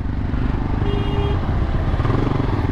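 Motorcycle fitted with an aftermarket exhaust, its engine rumbling loud and close with a steady low throb, out in evening traffic in Dhaka.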